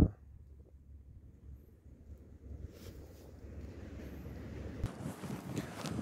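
Wind blowing at Hupo harbour, a steady low rushing roar buffeting the microphone and slowly building in strength, with faint water and boat ambience beneath and no talking.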